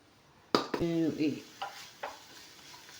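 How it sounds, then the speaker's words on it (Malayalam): Chopped onion and green chilli land in hot oil for a cheera (spinach) thoran: a sudden sizzling burst followed by scraping, stirring strokes of a spoon in the pan, with a few softer clicks trailing off. "എണ്ണയൊന്ന് ചൂടാവുന്ന സമയത്ത് നമുക്ക് ഉള്ളി ഇട്ട് കൊടുക്കാം. പച്ചമുളക് ഇട്ട് കൊടുക്കാം."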